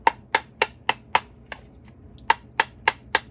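Sharp metallic taps of a tool pressing a soup can's lip into a ledge for a homemade wood gas stove, about ten close, evenly spaced clicks in two quick runs with a brief pause between.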